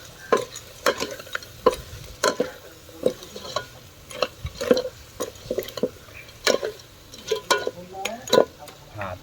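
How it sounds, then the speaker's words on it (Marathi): Crabs are stirred into a sizzling spiced masala, a steady run of loud spoon scrapes and clatters against the pan over a low frying hiss. "असं मिक्स करून घ्यायचं मसाल्यामध्ये"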